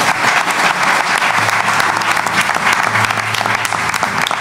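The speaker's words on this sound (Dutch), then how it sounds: "mag ik een heel groot applaus voor al onze gasten" Large audience applause for the guests at a Dutch health café evening in Venray, steady dense clapping throughout with a low murmur underneath.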